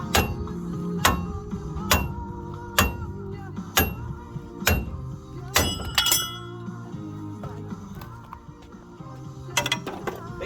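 Sharp metallic hammer clinks ring out one after another at an irregular pace, each strike bright and ringing briefly over a low background, during suspension and brake work on a 1990 Chevrolet K1500.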